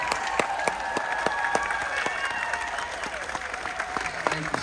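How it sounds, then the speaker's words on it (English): An audience on a Carnival Dream cruise ship applauds a World War II veteran, steady dense clapping from a crowd close by that holds throughout, with a few sharper individual claps standing out. "Give a round of applause for Bob."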